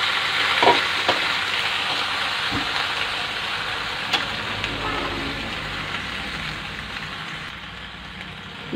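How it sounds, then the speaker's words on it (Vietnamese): Boiled apple snails being stir-fried with fried shallots in a hot pan, a steady broadband sizzle with a few sharp clinks of a utensil against the pan, close and continuous with no talking. "ốc lúc nãy mình đã rửa sạch rồi đó và mình luộc chín rồi nè cho vào đây để mình xào"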